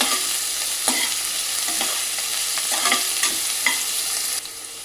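Onions frying until soft in a pan for paneer masala, with a steady loud sizzle and occasional spatula stirs and scrapes throughout, with no voices.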